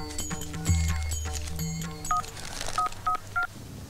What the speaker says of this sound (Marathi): तिला फोन करतो